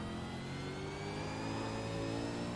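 A V8 race car engine in the iRacing sim, revved hard under heavy throttle, holding a loud, steady multi-toned drone with rising harmonics and no voices.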